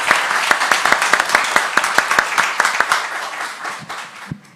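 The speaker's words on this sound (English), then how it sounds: "Let's give an applause to everyone that spoke." Audience applause for the speakers at a smart specialisation strategy event in Serbia, with sharp, distinct claps from a modest crowd, loud and close at first, then thinning and trailing off to a few last claps.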